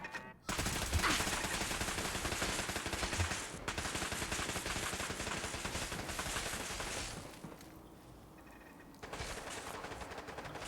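An automated turret in the video game Fallout 4 fires a long sustained stream of rapid gunshots. The rattle holds steady for several seconds, briefly thins, then resumes loud and close with no talk.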